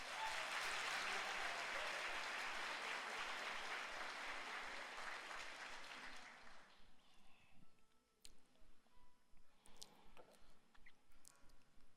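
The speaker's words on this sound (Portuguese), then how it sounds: "Dê uma salva de palmas a Ele." A church congregation at a Sunday service applauds loudly and steadily for about six seconds, then the clapping fades out into scattered faint clicks and quiet room noise.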